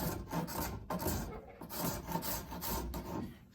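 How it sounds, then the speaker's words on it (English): A spokeshave shaving a thin wooden pattern in a boatbuilding class, making a series of soft, close rasping strokes in a steady back-and-forth rhythm, with no talking. "most people will hold a spoke shave with 2 hands for heavier work, but in this case, it's really thin"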